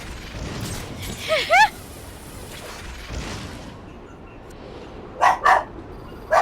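Dogs barking in the Batman: Arkham Origins video game: two short bursts of sharp barks, one early and one near the end, over a low steady game ambience, with someone talking quietly in between.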